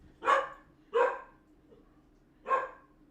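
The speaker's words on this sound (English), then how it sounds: "God, that dog scared me." A dog barks three times nearby, with two quick loud barks, a faint low sound, and then a final bark after a pause, against a quiet background.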